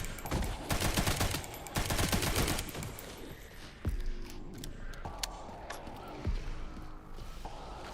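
An Uzi submachine gun fires in the video game Resident Evil Requiem, with loud sustained automatic bursts for about three seconds, then a few separate heavy thumps and clanks as the firing stops.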